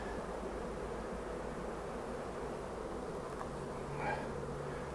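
Honey bees around an open nuc hive packed with honey and pollen for winter, a dense steady buzzing hum, close and continuous with no voices.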